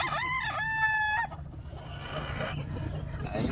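A Gilmore Hatch gamecock crows loud and close at Calumpit pet market, one long cock-a-doodle-doo that gives way to market murmur and faint clucking nearby.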